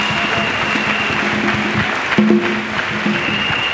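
A church congregation claps and cheers for Jesus Christ during a testimony service, dense sustained applause with voices and music underneath, close and loud throughout.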